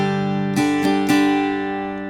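On a guitar, a few chord strums ring out over a sustained bass root note, three quick separated strokes that then decay smoothly. This is a root strum pattern for a song, played alone with no voice.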